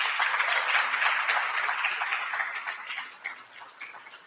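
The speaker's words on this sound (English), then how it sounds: "let's give the whole select choir a round of applause" Audience applause for a select choir at a senior honors dinner; a soft, distant wash of many hands clapping that gradually thins and fades.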